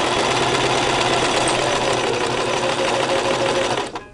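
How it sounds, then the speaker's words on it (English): A Brother LX3014 sewing machine top stitches around a five-layer fabric face mask, a loud, steady mechanical whir that runs without a break and then stops abruptly near the end. "this part of the sewing is going around the mask and doing the first line of top stitches"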